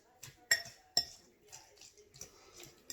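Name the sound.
mashing green paste finely with a utensil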